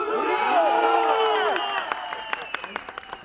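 A crowd at a political rally in Turkey chants and cheers, with overlapping voices swelling together before breaking into scattered sharp claps and shouts, loud and close.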